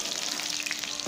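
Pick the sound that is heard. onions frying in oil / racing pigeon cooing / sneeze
onions frying in oil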